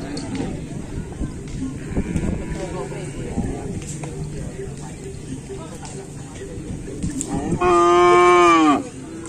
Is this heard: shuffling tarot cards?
no